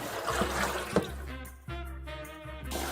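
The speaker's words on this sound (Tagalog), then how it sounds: "So, tapon muna natin yung tubig." Water is poured out of a cooking pot in a kitchen, a short splashing trickle that comes in a few bursts, fairly faint and close.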